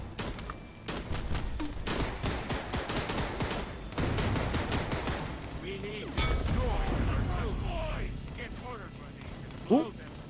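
Rapid gunfire and mortar blasts from a World War Two–style battle in the VR game Cactus Cowboy: Plants at War, a dense, sustained barrage with a voice talking over it and a sharp burst near the end.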